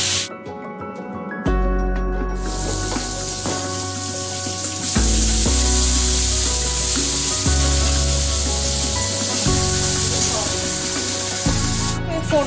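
Cardamom and cinnamon hit hot oil for a tempering in chilli paneer cooking, giving a loud, close sizzle that swells and settles over a bed of steady background music.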